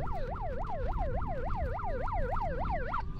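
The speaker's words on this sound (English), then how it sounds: "the siren's still going." A siren wails in fast, repeating up-and-down sweeps, loud and continuous, with low traffic rumble beneath.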